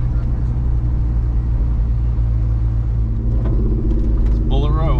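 1971 Mustang Mach 1 with a 429 Cobra Jet V8 pulling away, a steady low engine rumble heard from inside the car, with voices talking over it toward the end.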